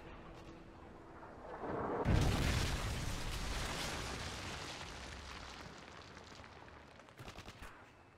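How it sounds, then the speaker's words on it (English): A Predator missile strike in Call of Duty MW3 on the Seatown map: a sudden heavy boom that swells into a long rumbling roar, decaying over several seconds, with a few sharp gunshots near the end. "Friendly Predator missile inbound."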